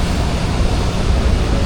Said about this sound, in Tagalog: Medyo umuulan pa rin, basang-basa yung kalye.